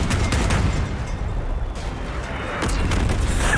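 Cannon fire and heavy explosions in the vehicle combat game Crossout, a dense, continuous barrage of booming blasts at close range with no pauses between shots.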